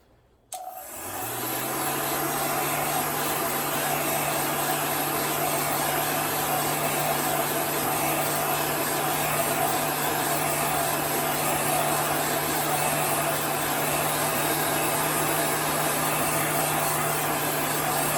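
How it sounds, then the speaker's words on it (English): A heat gun switches on and blows hot air continuously to dry paint layers on a gingerbread shadow box craft, a loud steady whooshing roar with a constant motor whine that holds for the whole stretch. "So just keep your heat gun moving."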